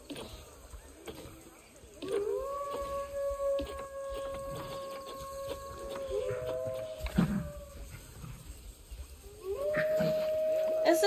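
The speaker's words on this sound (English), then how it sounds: "The wolf cubs are here, chat." Wolf cubs howl in the Planet Zoo video game, with long wavering tonal howls overlapping in pairs, rising and sustained for several seconds, then a fresh howl near the end, over a low game ambience.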